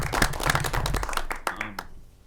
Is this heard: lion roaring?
no